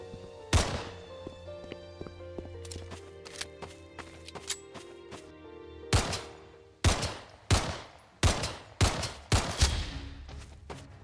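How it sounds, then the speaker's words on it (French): Repeated pistol shots in a video game, a burst of sharp reports early on, then a series of loud, evenly spaced single shots ringing out close, with no talking. "Les bruits du pistolet attirent les ennemis."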